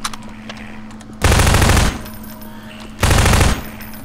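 Two long bursts of automatic gunfire in Half-Life 2, each about half a second of loud, rapid, dense shots, separated by a quieter gap with a low steady hum.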